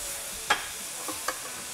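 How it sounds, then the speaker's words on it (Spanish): Tortillas fry in a pan with a soft, steady sizzle, broken by two or three faint taps or scrapes, close and alone. "Y le voy friendo las tortillas, pues."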